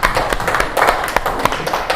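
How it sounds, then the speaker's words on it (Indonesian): Dense clapping from a classroom of students for a classmate, a steady patter of many hands at close range with occasional sharper individual claps. "Tepuk tangan semuanya buat Sela"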